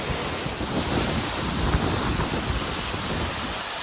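Wind gusts rush against the microphone in a steady, buffeting roar, with a watery surf-like wash of flowing mineral spring water underneath, in Daylesford, Australia.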